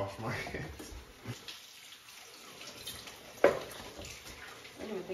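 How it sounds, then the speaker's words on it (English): Hands washed under a running kitchen tap while making pizza dough, a steady gushing water stream with splashes and one sharp clunk midway, heard close with some talk around it. "I'm gonna wash my hands."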